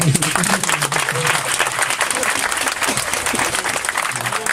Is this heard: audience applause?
yes